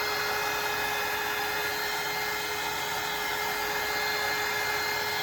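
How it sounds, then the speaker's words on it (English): Heat gun running steadily while drying acrylic paint, a continuous close, loud high-pitched whirring blow with a constant tone and no voices over it. "This acrylic paint dries really fast, especially if you have one of these heat guns."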